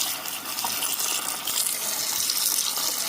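Tap water gushes steadily over sprouting lentils in a bowl with holes as they are rinsed in a home kitchen, a close, continuous splashing rush with no talking.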